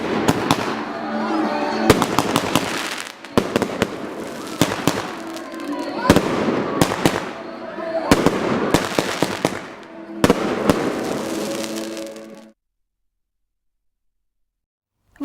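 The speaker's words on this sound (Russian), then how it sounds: "Праздник завершился красочным фейерверком." Fireworks burst in repeated volleys at a holiday celebration, loud sharp bangs and crackling in clustered bursts with short gaps, ending abruptly into silence.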